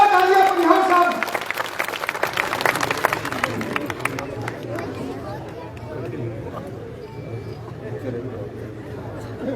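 Loud applause from an audience at a BJP candidate's welcome event in Malkheda, with dense clapping at the start tapering into crowd chatter and babble.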